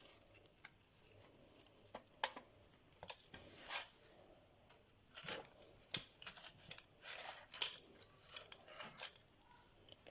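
Sharp, repeated clicks and snips of a kitchen knife trimming the green stem caps off red and green chili peppers, a quick irregular series of close, crisp cuts with no talking.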